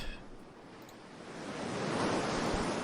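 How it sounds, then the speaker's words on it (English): Ocean surf on a beach in a visual novel game, a steady soft wash of waves that swells louder toward the end, with no voices. "The sound of the waves caressed my ears, healing my soul like a long-needed medicine."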